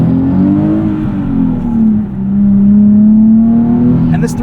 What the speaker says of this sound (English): You gotta love that V6.